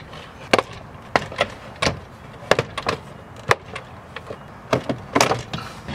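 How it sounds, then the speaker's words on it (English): A series of sharp plastic snaps and pops as door panel clips are pried off a Chevy Colorado Duramax, about a dozen irregularly spaced over several seconds, close up against a quiet background. "Now we can start prying just little by little, do one at a time"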